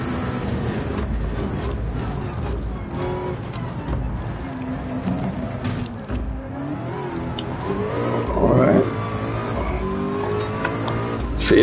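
A race car engine drones continuously in a Le Mans endurance racing game played in VR, with the pitch rising and falling through gear changes and a louder swell near the end, with no talking.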